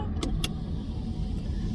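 Steady low road rumble inside a moving car, with two short clicks or ticks early on and no speech.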